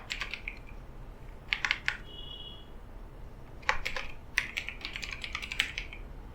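Keys clatter on a computer keyboard while entering drop-down list options in an Excel spreadsheet, coming in short bursts of quick taps separated by pauses, close and fairly quiet, with no voices.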